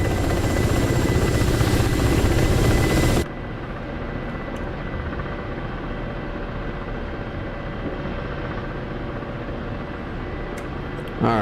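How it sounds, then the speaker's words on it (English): Reverse tandem rotor helicopter in a video game, a loud dense rotor and engine roar for about three seconds that then drops to a steadier, quieter drone for the rest of the clip. "Except this is a reverse tandem rotor."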